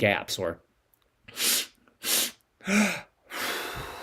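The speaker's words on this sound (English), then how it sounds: "I go belly, chest, gasp." Breathwork session gasping breaths: someone speaks briefly, then three sharp forceful inhaled gasps spaced about half a second apart, followed by a longer rushing breath, all close and clear.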